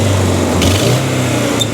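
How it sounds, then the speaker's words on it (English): A car engine with a low-compression dead cylinder idles with an uneven, stumbling misfire rhythm, a low steady drone broken by irregular hiccups, close by and fairly loud, with an exhaust leak. "I'm going to start this engine back up, and we're going to observe the misfire."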